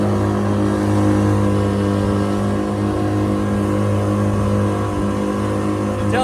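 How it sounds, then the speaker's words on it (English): A restored skiff's outboard motor running steadily through a harbor, a loud, close, continuous engine drone holding an even pitch throughout. "that motor's happy to be put back to work"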